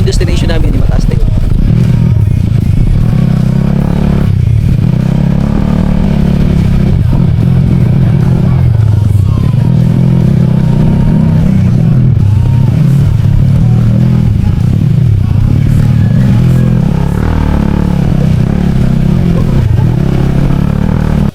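Motorcycles riding up a rough road toward a hilltop coffee camp, a loud, continuous engine drone with rising and falling revs and some clatter, close to the mic throughout.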